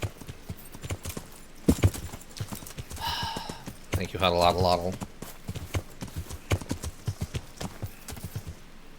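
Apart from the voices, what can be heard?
horse hooves clip-clopping, Kingdom Come: Deliverance video game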